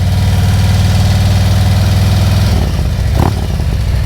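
A motorcycle engine fitted with an S&S 465 cam idles steadily with a deep, throbbing rumble, close and loud throughout, with a brief change near the end.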